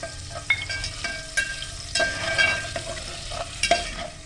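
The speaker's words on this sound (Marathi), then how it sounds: "शिमला मिरची, टमॅटो, कांदा, गाजर, फरसबी आणि पनीर परतून घेते" Capsicum, tomato, onion, carrot, beans and paneer are stirred and sautéed in a pan for vegetable pulao, with close sizzling and repeated scraping stir strokes and clinks, no voices.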